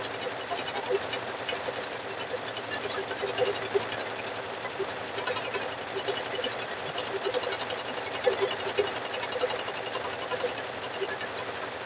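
A sewing machine stitches steadily over rope wrapped in fabric while a rope bowl is being made, giving a fast, even mechanical whirring chatter that runs continuously and loudly up close with no pauses.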